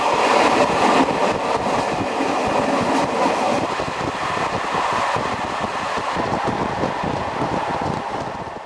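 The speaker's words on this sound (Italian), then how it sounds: "Stazione di Rabat, diretti a Meknes. Porte dei treni rigorosamente aperte." A passenger train running from Rabat to Meknes with its doors open rumbles along, carrying loud wind rush and rhythmic rattling of the carriage over the rails, steady and close throughout.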